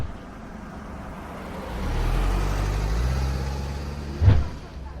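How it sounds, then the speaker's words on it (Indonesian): A luxury car drives past, its engine rumble swelling as it nears and fading away, ending with a short loud thump. "Tiba-tiba saja, lewatlah sebuah mobil mewah."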